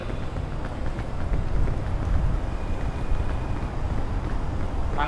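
Wind blows steadily in the video game PEAK, a continuous breathy rush with low rumbling gusts holding at an even level throughout.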